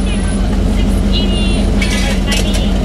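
A truck engine runs loudly with a steady low rumble, while people talk over it throughout.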